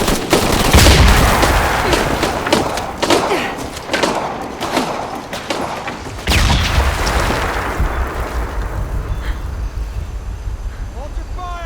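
Gunfire in Shadow of the Tomb Raider: loud clustered shots and heavy thuds through the first half, easing into a lower rumbling combat bed, with voices talking over the action.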